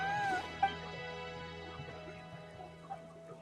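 A short, high-pitched meow in the video game Genshin Impact near the start, followed by quiet background tones and faint clicks.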